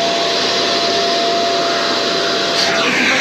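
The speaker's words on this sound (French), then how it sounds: "Un coup de brosse et puis on aspire." A loud, steady, close roar from a vacuum extractor cleaning a car interior, with constant hissing airflow and no pauses.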